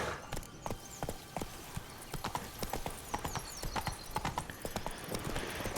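Roach the horse walking in The Witcher 3, with crisp, evenly paced clip-clop hoofbeats up close, steady throughout, and a faint whinny-like sound in the background.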